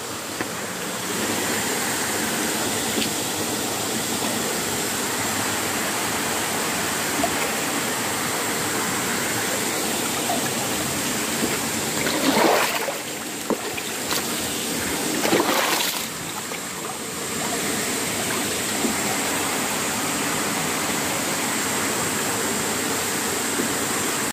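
Water rushes steadily through an irrigation channel, a loud, constant broadband flow lasting throughout, with two brief louder surges midway and no talking.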